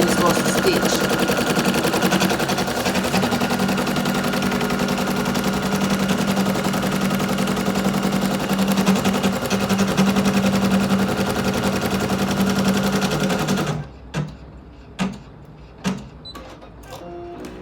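An embroidery machine stitches an applique in a long, steady mechanical whir with rapid repetitive needle rattle, then stops, leaving a few sharp isolated clicks and knocks.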